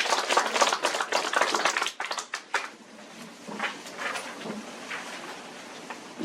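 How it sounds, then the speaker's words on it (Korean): Applause from attendees at a Busan writers' association board meeting, a burst of brisk clapping from a room of people that thins out and fades into scattered claps and a quieter room. "박수 한번 주십시오."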